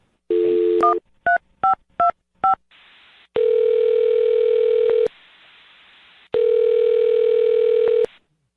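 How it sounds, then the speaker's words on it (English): A telephone number is dialed for a radio-show call: a quick run of loud keypad beeps, then two long, even ringing tones separated by a pause, with no voices. "I'm going to dial her phone number right now"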